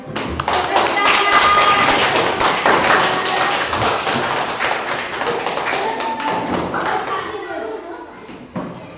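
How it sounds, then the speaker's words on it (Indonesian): Schoolchildren in a primary classroom break into sustained clapping, a dense patter of quick, overlapping hand claps that tapers off over several seconds amid chatter and a few thumps. "Tepuk tangan."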